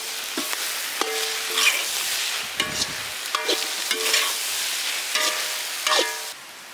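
Goat boti (intestine) sizzles in a pan as coconut oil and curry leaves are stirred in. A spatula makes sharp scraping strokes at irregular intervals over a steady frying hiss, close up, with no voices.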